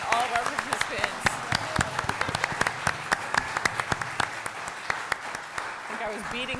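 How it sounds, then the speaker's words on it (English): A small audience applauds panelists at the close of an educational institute, with brisk, scattered clapping that carries on for several seconds, with faint voices beneath. "I want to give a huge round of applause to all of our panelists"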